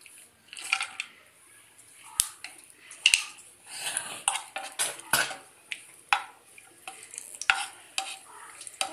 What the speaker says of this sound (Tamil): இந்த தவாலியே நெய் ஊற்றி முந்திரி, பாதாம், திராட்சை இதெல்லாம் ஃப்ரை பண்ணி எடுத்துக்கலாம்.